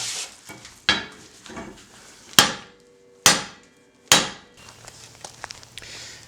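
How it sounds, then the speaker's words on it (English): A hammer strikes a steel drift to straighten a bent felling wedge, with three loud, sharp metallic blows spaced about a second apart and a few lighter taps, each ringing briefly before fading. "We'll take care of that by drifting in on this side and then beating on the drift"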